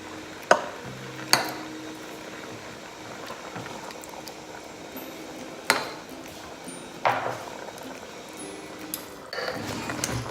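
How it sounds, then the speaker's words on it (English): Chicken in tomato sauce being stirred in an Instant Pot: a low, quiet bubbling simmer broken by several sharp clacks of a utensil against the metal pot, spaced a few seconds apart. "I've given everything a good stir."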